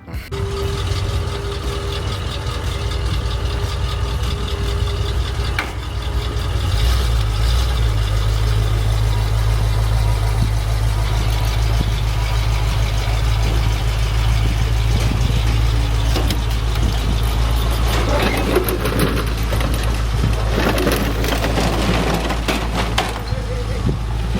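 A 1978 Ford F150 pickup engine idles steadily with a low rumble throughout, its pitch shifting slightly partway as it backs up, with faint beeping and clatter in the background.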